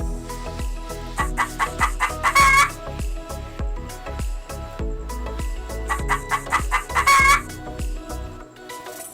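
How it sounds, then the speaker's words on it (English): A hen clucks in quick rhythmic bursts, close and loud, building into two louder rising cackling calls, with dense repeated clucks throughout. "hen,"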